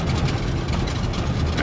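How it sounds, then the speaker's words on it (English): Heavy diesel engine drone of a water truck driving down 60th Street on a dusty solar farm site, loud, close and continuous over the short stretch. "This water truck is going down 60th Street"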